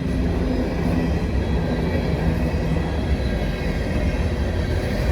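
Northbound coal train passing on track 2, a dense, loud, steady rolling rumble of wagons on the rails that holds throughout with no letup.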